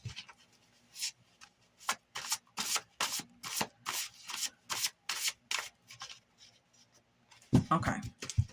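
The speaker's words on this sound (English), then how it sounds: "I'm going to go ahead and get some song cards right now." A deck of song cards is shuffled close by, giving a steady run of quick, papery riffles and slides that stop briefly before a louder rustle at the end.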